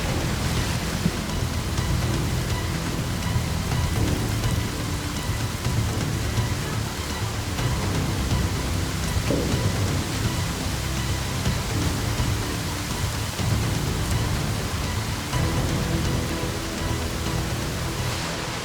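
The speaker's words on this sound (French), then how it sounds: "Le temps vire à l'orage. La pluie est diluvienne." Heavy torrential rain falls as a storm breaks over a tropical island in Thailand, a dense, continuous hiss and roar of downpour with no letup, loud and close.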